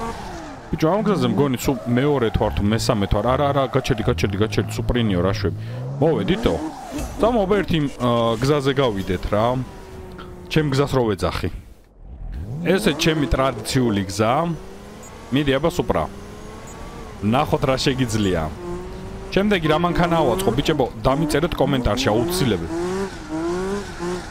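A 1200+ horsepower Toyota Supra A81 drifts in the CarX Drift video game. The engine revs hard and continuously, its pitch climbing and dropping with gear changes, while tires squeal through long slides, with only a brief lull midway.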